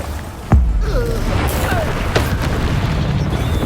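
A Confringo spell explosion in Hogwarts Legacy goes off as one sharp, close boom early on, then leaves a rumbling bed of game noise while a voice speaks over it.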